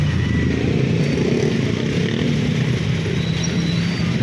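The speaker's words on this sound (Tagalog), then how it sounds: "Traffic talaga oh." Steady street traffic with motorcycles passing, a constant engine rumble and road noise at moderate loudness with no talk.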